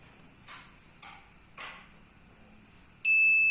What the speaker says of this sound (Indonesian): Dan akan bunyi buzzernya.